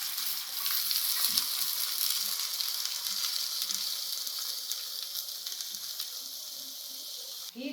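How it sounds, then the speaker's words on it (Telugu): Onions frying in oil in a pot give a steady, close sizzle with crackling hiss throughout, a few light clinks beneath it. "ఇంట్లో ఆయిల్ వేసేసుకొని ఇందులో ఉల్లిపాయని మగ్గించేద్దాం ఫస్ట్"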